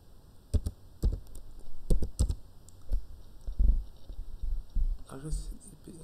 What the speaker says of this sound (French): Je vais encore taper if config.